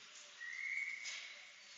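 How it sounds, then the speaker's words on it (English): A referee's whistle stops play at a 12U youth ice hockey game: one sustained, fairly faint blast lasting under a second, with no talking around it. "So we got a whistle stopping play at 3:58."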